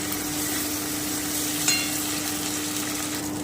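Green chili paste sizzles and fries in a pan for a fish curry with vegetables, a steady close hiss broken by a single light clink of the spoon midway.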